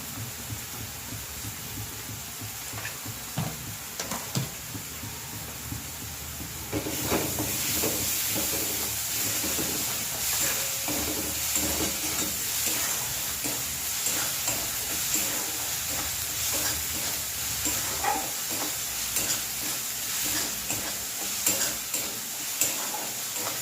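Potato mixture with half a spoon of ginger paste frying in a pan for aloo paratha, a steady sizzle with repeated stirring scrapes, growing louder and denser after the first few seconds.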